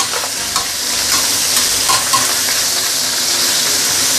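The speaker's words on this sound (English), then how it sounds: "this is after pan frying for one side for first 2 minutes" Steady, loud sizzling of fish pan frying in a little oil, a continuous bright crackle with a few faint clinks, no talking.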